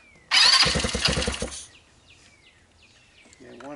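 A GY6 150cc ATV engine bursts into a loud, rough start and revs hard with the throttle turned up. After about a second and a half it drops back to a quiet idle, with faint chirps and a brief voice near the end.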